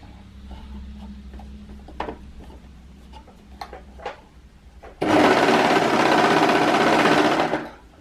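A sewing machine stitches ribbing onto fabric for pants. Soft ticks and handling sounds come first, then one loud, rapid, continuous run of stitching lasts about two and a half seconds before stopping.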